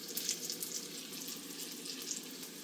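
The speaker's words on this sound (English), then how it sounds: "we got the cutlets in the frying pan" Pork cutlets frying in a frying pan on an old stove, a steady close-up sizzle with crackling pops, continuous and even, no talking.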